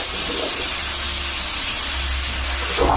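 Onion and garlic dropped into a thin layer of hot oil in a pan for a sofrito, hissing in a steady, close sizzle that holds for a few seconds and swells briefly at the end.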